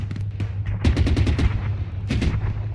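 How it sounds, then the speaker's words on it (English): Rapid bursts of video game gunfire in ARMA 3 crackle in quick succession, automatic volleys with a low steady hum beneath, sharp and fairly close. "So I'm looking around for where that gunfire comes from."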